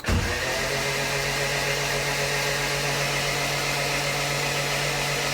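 Turbocharged Honda CRX engine turning over on its starter for a first start after a rebuild, a steady, loud, unbroken mechanical whir with a constant hum that holds unchanged throughout, no firing heard.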